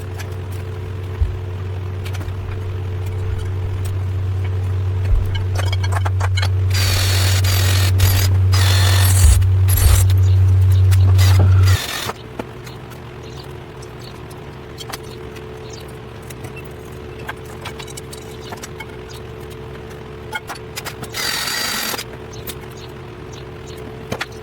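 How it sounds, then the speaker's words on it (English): A drill counterbores the back side of a hole in a metal urn, a loud rising low hum that stops abruptly midway, followed by scattered clinks, ratcheting and mechanical handling noises. "I'm counterboring the back side of the hole, that way I can get some weld in there"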